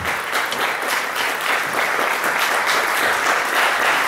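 Steady, dense applause from an audience at a Polish poetry competition event, loud and continuous throughout with no pauses or speech over it.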